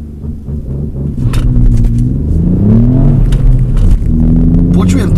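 A 2018 Ford Fiesta ST three-cylinder engine held at steady revs under launch control, a loud close rumble with wavering, slightly uneven pitch and a few brief dips, no speech heard.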